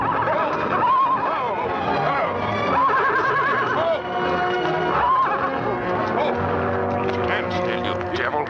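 A temperamental mare whinnies and neighs repeatedly in a 1940 Western, loud, close and shrill, with snorts and clip-clop of hooves mixed with a busy film soundtrack.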